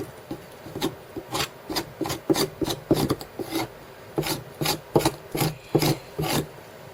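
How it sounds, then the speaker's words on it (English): A blade scrapes bark off a wooden walking stick in steady, rhythmic rasping strokes, close and alone, about a dozen passes with short gaps between them. "I'll scrape some more off."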